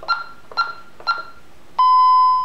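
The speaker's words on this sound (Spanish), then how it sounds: "Me pone alarma tamper de sensor." A Honeywell alarm panel signals a sensor tamper alarm: three short, evenly spaced electronic beeps, then one sustained piercing tone, loud and close.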